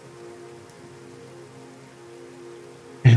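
Rain falls softly over a low, sustained musical drone in a guided relaxation, gentle and even at first, then suddenly swelling into a loud, close downpour in the last moment.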